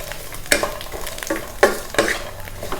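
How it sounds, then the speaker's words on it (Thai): Sea bass stir-fried with ginger and preserved radish in a hot pan, loud close sizzling with several sharp scraping strokes of a spatula tossing the mix, heard alone without talk. "จากนั้นเราก็จะมาผัดรวมกันเลยนะคะ ขั้นตอนนี้เขาเรียกจู้"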